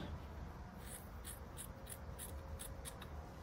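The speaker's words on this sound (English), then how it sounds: "I'm just going to come along and trim the others" Scissors trim the yarn fringe on a crocheted plaid blanket, giving a faint run of about eight quick, evenly spaced snips close by, set against a quiet room.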